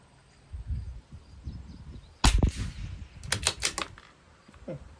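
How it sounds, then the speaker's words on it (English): A single sharp shot from a CZ 457 rifle rings out near the middle, followed by a rapid run of clicking bolt or mechanical sounds and scattered handling noise at close range. "Pretty good cold bore shot there."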